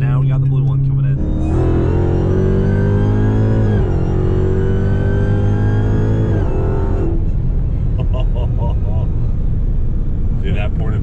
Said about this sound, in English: that ported blower is so loud